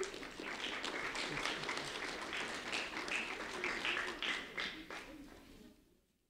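An audience at a school recognition event applauds a fifth-grade student, a dense continuous patter of many hands that holds steady for several seconds and then fades out quickly near the end.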